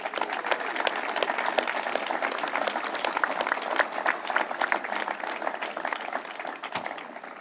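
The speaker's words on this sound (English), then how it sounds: "Please give them all a round of applause." An outdoor audience in Lake Placid gives sustained applause, dense clapping from many hands that holds steady for several seconds before tapering slightly.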